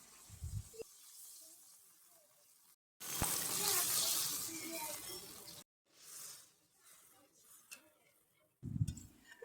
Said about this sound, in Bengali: পরিমাণ মতন জল দিয়ে দেবো যেন মাছগুলো ডুবো ডুবো হয়ে থাকে।